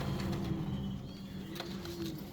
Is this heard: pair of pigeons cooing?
yes